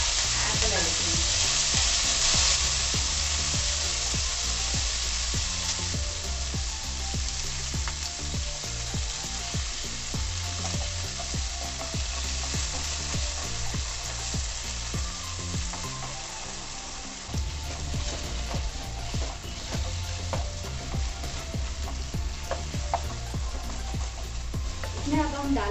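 Potatoes and elephant apple sizzle steadily in a hot pan, a loud continuous frying hiss with occasional stirring scrapes throughout, close to the mic.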